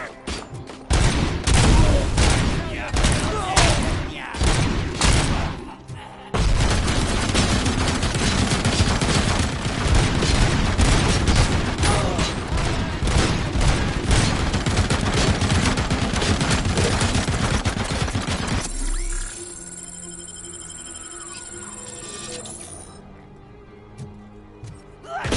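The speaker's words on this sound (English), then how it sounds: "I got a machine gun" Sustained rapid machine gun fire in the video game RoboCop: Rogue City, loud and continuous, with dense overlapping shots and impacts for most of the stretch, then a quieter tail of mechanical game sounds.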